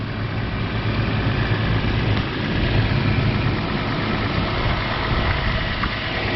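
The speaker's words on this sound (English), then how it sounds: "car running here. This is the Tacoma." A Toyota Tacoma engine idles at a steady, even low rumble, continuous and close, with no voices over it.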